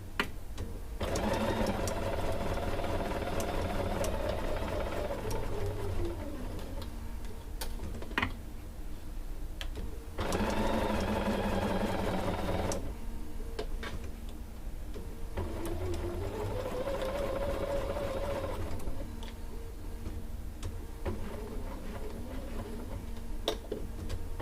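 A sewing machine stitches quilt pieces together in three separate runs of rapid, even needle chatter, each lasting a few seconds, with short quiet pauses and faint handling clicks between them.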